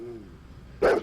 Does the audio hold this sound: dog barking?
yes